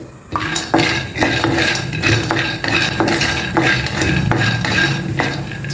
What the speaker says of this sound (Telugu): అందులో అరకప్పు పల్లీలు వేసుకోండి వేసుకుని వేయించుకోవాలి